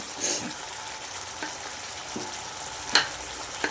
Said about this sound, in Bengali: আমার আগের থেকে বেটে রাখা ছিল কাজু আর পোস্তকে একসঙ্গে তো সেই পেস্টটা আমি দিয়ে দিলাম এর মধ্যে